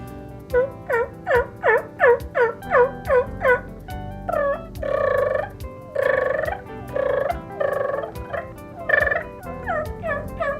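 A turkey call imitating a hen gives a run of soft, evenly spaced yelps, then a few longer rolling purrs, followed by more yelps, close and clear.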